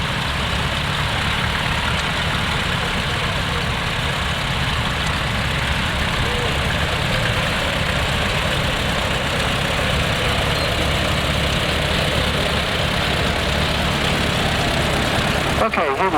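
A vintage tractor idles at a steam rally in Long Melford, a steady low engine rumble that runs throughout under constant outdoor noise.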